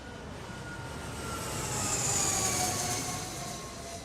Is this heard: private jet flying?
yes